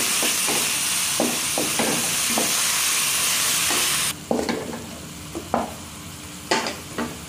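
Carrots simmering in a pan after a little water is added, a loud steady sizzling hiss that suddenly drops away, followed by quieter bubbling and occasional clinks of a utensil against the pan.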